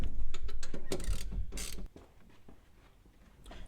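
Wrench ratcheting in quick bursts while a seat is installed in a square-body K20 truck, close and clear for the first two seconds, then quieter mechanical handling.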